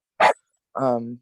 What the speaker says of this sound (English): Because your dog was barking.